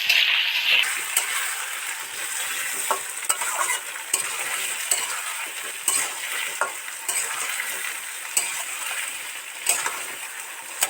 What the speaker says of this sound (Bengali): ওদিকে তো আলু টমেটো ভালো করে ভাজা হচ্ছে